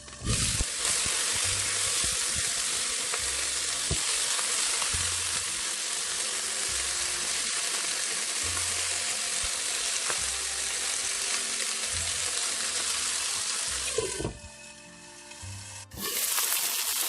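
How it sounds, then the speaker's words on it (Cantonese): Chicken wings pan-fry in soy sauce over medium-low heat, giving a steady, loud sizzle that runs almost throughout with occasional low knocks, then briefly softens before resuming near the end. No one speaks. "依家咧每邊中小火，我煎焗咗佢大約2分鐘到"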